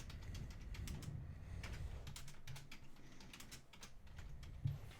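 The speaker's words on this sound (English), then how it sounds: "Didn't want to talk while I was typing" Quiet, rapid keystrokes on a computer keyboard tap out in uneven bursts, with faint clicks and brief pauses between runs of typing.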